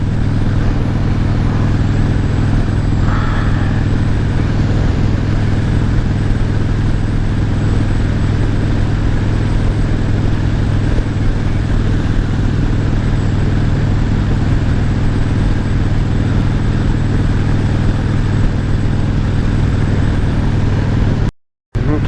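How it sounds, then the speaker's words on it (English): A motorcycle cruising along an open highway in Oklahoma, with a steady engine drone and broadband wind rush held at constant loudness the whole way, loud and close, with no talking. "It just feels good to be cruising along with nothing but the sound of the wind and your motorcycle"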